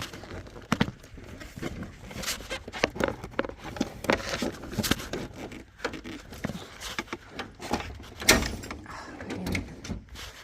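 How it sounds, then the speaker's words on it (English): A metal toolbox drawer, sticky and hard to open, is tugged repeatedly in a shop setting, giving a run of close clunks, scrapes and rattles spread over several seconds with no voice. "This drawer, if I can get it open,"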